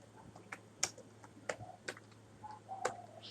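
Typing on a computer keyboard to enter a search, a sparse run of close, crisp key taps and clicks at an irregular pace over a quiet low hum, no talk.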